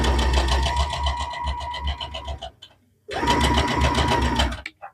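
A sewing machine stitching a straight line along quilt binding, running loud and close in a fast, steady whir, stopping briefly for about half a second and then starting again at the same pace.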